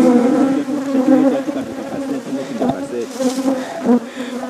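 Bees buzzing at a beekeeping site on Mount Lubwe near Butembo, North Kivu, a loud, dense hum close by that swells and fades as insects fly past the listener.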